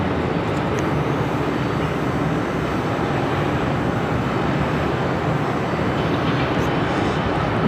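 United Airlines airliner taking off from runway 5 left at Raleigh-Durham International Airport, a steady, loud broadband jet roar that holds for several seconds with no pause.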